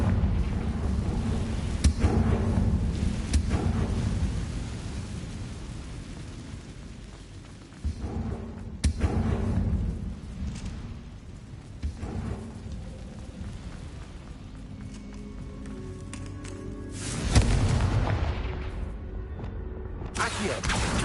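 Confringo blast spells going off in Hogwarts Legacy, several booming explosions that swell and fade over a rumbling backdrop, a big burst near the end, loud and spaced unevenly across the stretch.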